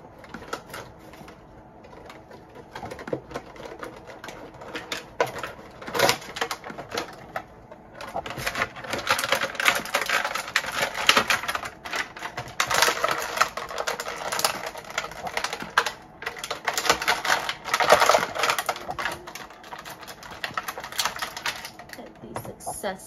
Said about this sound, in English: Alright, let's unbox.